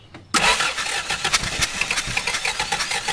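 An engine cranks and catches right away, then chugs unevenly at a rough idle with irregular firing pulses, close and loud, while spark plugs are being checked cylinder by cylinder.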